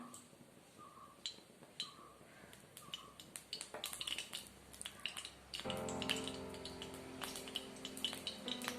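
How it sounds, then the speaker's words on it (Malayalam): Coconut oil poured into a pan while making chutney for fenugreek oothappam. A thin, wet trickle with small clicks rises into a denser, steady liquid rush partway through. "കുറച്ച് വെളിച്ചെണ്ണ ഒഴിച്ചു കൊടുക്കുക."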